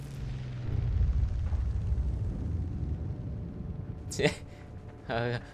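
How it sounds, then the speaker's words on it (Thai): Bombers drop a heavy load of bombs in the World War II shooter Heroes & Generals, with a deep rolling rumble of blasts early on and then a sharp, loud explosion near the end, followed by a short burst of noise. "โอ้โหเครื่องบินทิ้งระเบิดอย่างเยอะ"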